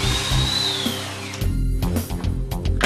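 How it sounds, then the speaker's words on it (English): A twist drill boring a slanting hole into wood guided by a wolfcraft Undercover Jig, a steady whining motor with rising pitch for over a second, then a pause and short bursts of drilling, close and loud. "producing a slanting borehole using the Undercover Jig and the twist drill"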